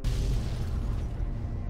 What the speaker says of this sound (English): my favorite improvement by EVE has to be the explosions